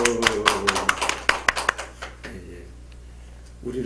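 Members of a church congregation clapping in a quick burst of sharp, close claps that fade away after about two seconds, with a voice starting up again at the end.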